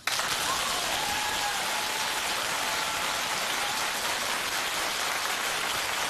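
Studio audience at a daytime talk show claps in a dense, even roar of hands that holds steady and loud throughout, with no clear voices.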